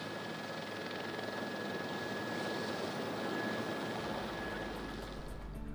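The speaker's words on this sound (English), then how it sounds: "This could be a significant problem for this JetBlue aircraft that is coming in for a landing." A JetBlue airliner makes a low pass over the runway at LAX before landing, its engine roar loud and sustained with a steady whine, building slightly near the end.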